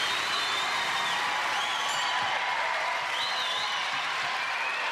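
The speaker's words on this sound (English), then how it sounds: "The crowd are loving it." A studio crowd at a 1992 Gladiators UK semi-final cheers and applauds in a dense, sustained roar, with whoops and whistles rising over continuous clapping.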